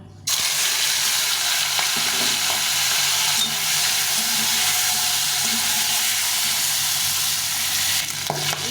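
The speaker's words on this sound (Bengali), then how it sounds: "শিঙি মাছ খুব ফোটে একটু দূরে থেকে ভাজতে হবে" Singi fish coated in salt and turmeric sizzle loudly in hot white Fortune oil in a pan, a dense, continuous crackling hiss that starts abruptly and holds steady close up.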